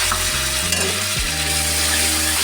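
Onion, ginger, grated tomato and chopped green chillies fry in oil in a pan for a green chickpea yogurt curry, a steady close sizzle with a low hum and brief stirring shifts, no talk.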